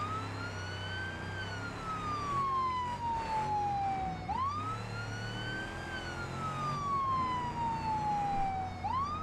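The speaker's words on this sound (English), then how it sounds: "I heard a siren in the distance" A police siren wails in repeated slow rising and falling sweeps from an emergency vehicle while driving, heard over steady road and engine noise, fairly clear rather than very distant.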